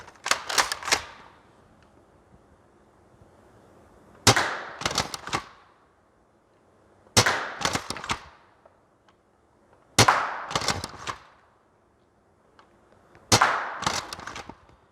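An Adventure Force Nexus Pro dart blaster firing long darts, with five separate quick bursts of sharp mechanical shots spaced a few seconds apart and near-silence between them.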